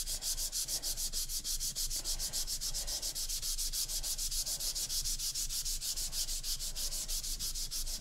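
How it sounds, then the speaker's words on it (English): Steady rhythmic hand sanding on wood, a rasping scratch repeating in quick even strokes, close and continuous with no talking. "I'm going to sand it one more time."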